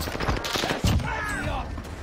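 Gunfire crackles in Call of Duty Vanguard Warzone, a scattered volley of shots with one sharper report midway, heard under people talking.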